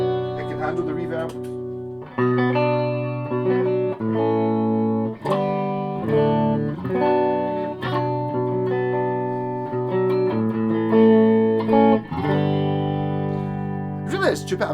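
Electric guitar played clean through a PRS HDRX 20 amp with reverb, sustained chords ringing out in a steady sequence with a short pause early on, loud and close.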